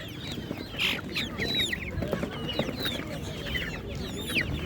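Hens and roosters at a Ukrainian livestock market: overlapping clucks and short squawks, fairly close, over a busy murmur of crowd and market noise.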